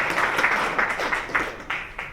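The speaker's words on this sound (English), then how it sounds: "Can you give him another round of applause?" Audience applause at a live business keynote, a brief round of scattered claps with distinct individual hits that thins out toward the end.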